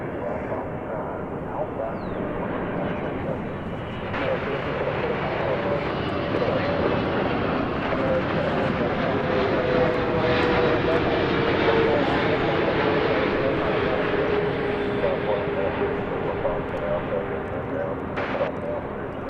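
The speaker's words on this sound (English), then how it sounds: "flight 221 coming in from Dubai" An Emirates airliner, flight 221 arriving at DFW from Dubai, gives off a loud engine roar that swells gradually toward the middle and then eases, with a voice talking over it.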